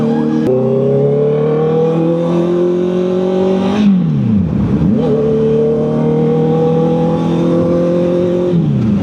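A Honda CB650R motorcycle with E-Clutch, ridden in full manual mode, revs up steadily, drops sharply as a gear changes, then climbs again; the engine is close, loud and continuous.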